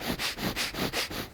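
Breath of fire breathwork: rapid, forceful nasal exhalations in an even rhythm of about five strong puffs in just over a second, loud and close with no talking.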